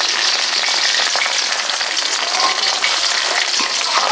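Prawns frying in mustard oil in a pan give a steady, loud, dense sizzle with constant crackle, continuous and close with no voices.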